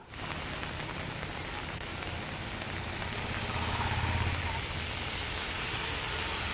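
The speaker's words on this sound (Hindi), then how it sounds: "जोरदार बारिश हो रही है" Heavy rain pours steadily in Jaipur on an evening, a dense, unbroken hiss of downpour close by that swells slightly midway and never lets up.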